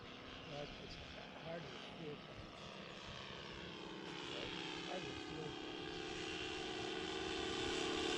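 A twin-engine radio-controlled model Grumman Skyrocket flies overhead, its electric motors giving a thin, steady buzz that grows gradually louder, with people briefly talking nearby.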